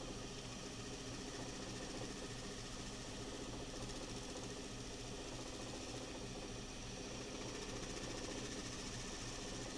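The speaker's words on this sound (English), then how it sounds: "So I'm going to slow the lathe down a bit." Wood lathe spinning during spindle turning, a dense continuous rumbling mechanical drone with a fast regular chatter, steady and fairly close throughout, with no voices.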